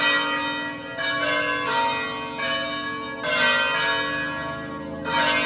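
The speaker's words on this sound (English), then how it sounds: "The bells are chiming at the monastery at Monterosso al Mare." Church bells ring out at a monastery in Monterosso al Mare on the Italian Riviera, several rich metallic strikes arriving in overlapping waves with long ringing decay, loud and resonant with no voices.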